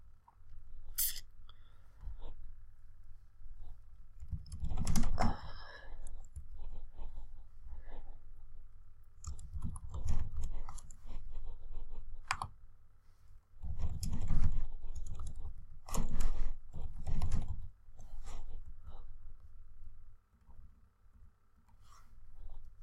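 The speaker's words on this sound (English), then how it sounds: "Word processing is typing words into a computer." Keys clatter on a computer keyboard during word processing, coming in irregular bursts of clicks separated by quiet pauses, close and fairly soft.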